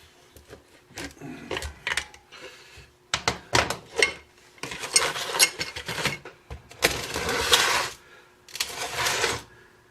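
A wrench works on a bolt of a hydraulic cylinder, producing a series of sharp metallic clicks, clanks and scraping rubs at close range, irregular and moderately loud, with brief pauses between bursts.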